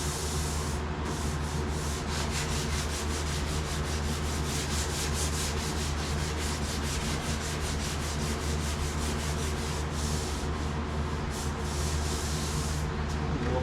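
Continuous rough rubbing of hand sanding on a surface being checked for flaws before filler, steady and close with a fan humming underneath.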